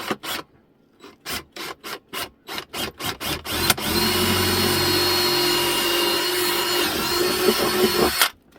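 A 1/2 inch drill bit starts with a series of short, even bursts, then runs continuously for several seconds with a steady, loud grinding whir before stopping abruptly, with no talk.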